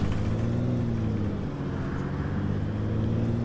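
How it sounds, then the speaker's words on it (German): Steady low drone of a bus engine idling and running in the OMSI bus simulator game, a constant hum with tonal harmonics and no break, heard alone. "Irgendwie klingt dieser Bus anders als die vorhergehenden"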